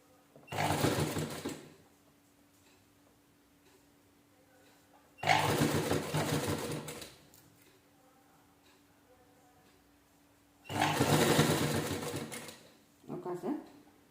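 A sewing machine stitches a doormat made from an old T-shirt in three separate bursts of rapid, rattling needle action, with quiet pauses between them and a short final run.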